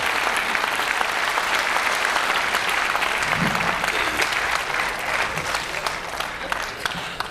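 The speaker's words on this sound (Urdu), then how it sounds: "زوردار تالیوں کے ساتھ" A mushaira audience in Dubai breaks into loud, sustained applause, dense clapping from a large crowd that carries on throughout at near-constant strength, with a voice or two faintly underneath.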